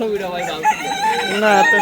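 Local village chickens at a rural market cluck and crow in overlapping calls, close by, amid faint background chatter.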